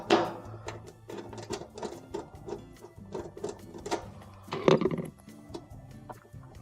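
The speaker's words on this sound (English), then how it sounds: "Loosen the 3 nuts that are on here." A 3/8 inch nut driver works loose the nuts on the power cord terminal block of a Maytag stove, giving a series of small metallic clicks, ratchets and scrapes, close and fairly quiet, with a sharper cluster of clinks near the end.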